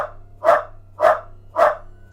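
Dogs bark three times at an even, rhythmic pace, sharp and fairly close, with a low hum underneath and no voices.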